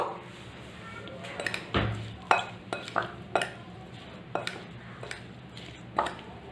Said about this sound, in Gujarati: આપણે આવી રીતે મીઠું અને લીંબુના રસને મિક્સ કરી લઈશું